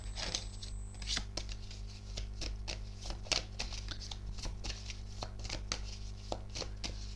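Tarot cards being shuffled by hand, a run of quick papery flutters and soft slaps repeating at a steady pace over a constant low electrical hum, fairly quiet and close.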